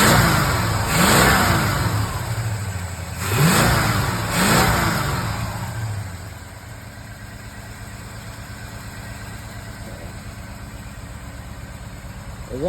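A car engine close by blips the throttle in three sharp, rising revs, then drops back to a steady, rumbling idle for the rest of the time, with no talking over it.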